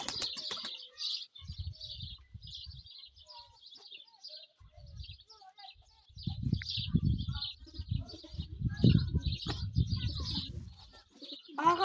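A female feather-footed pet pigeon coos and chirps close by, with soft wing flutters and low handling bumps and rustles, while a faint voice occasionally murmurs nearby.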